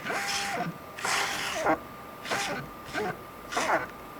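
An old Canon 50mm lens's focus-by-wire motor whirs during manual focusing in several short, rising and falling bursts, a robotic mechanical buzz repeating about five times with brief pauses.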